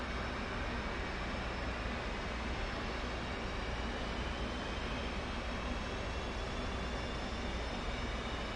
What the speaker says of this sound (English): now we're ready to crank our number 1 motor or left motor